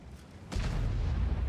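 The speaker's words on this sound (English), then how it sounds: "There is an artillery, so I want to try and avoid that artillery." Artillery fire in the World of Tanks video game, one heavy low boom that strikes about a third of the way in and leaves a sustained rumbling wash behind it, loud and close, with no voices.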